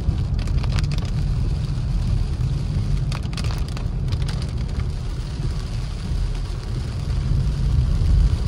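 Heavy rain drums steadily on a moving car during a thunderstorm with flooding in Big Bear, California, a dense continuous hiss over low road and engine rumble, with no voices.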